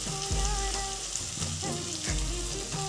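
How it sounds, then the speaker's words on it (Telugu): Tomatoes frying in hot oil, a close, steady crackle and sizzle that continues throughout with some faint stirring, no talking. "ఇవి కాస్త ఫ్రై అయిన తర్వాత ఇప్పుడు టమాటాలు వేద్దాం"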